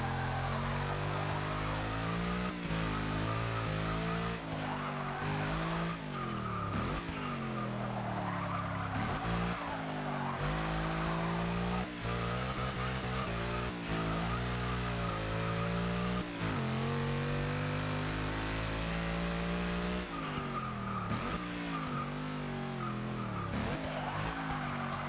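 A 2012 Mercedes-Benz C 63 AMG Coupé Black Series races in a video game, its engine roaring loud and continuous as it revs up and down through gear changes, with repeated tire squeals and skids on corners.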